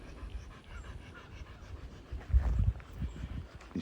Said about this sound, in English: my dog is just pulling the heck out of mine